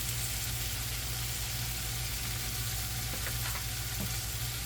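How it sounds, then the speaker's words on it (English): Beef stew ingredients seasoned with salt, pepper and fresh and dried thyme sauté in a cast iron cauldron over hot coals, a steady low sizzle and crackle running the whole time with a few faint stirring clinks. "Let it saute for a minute, then we're going to hold on."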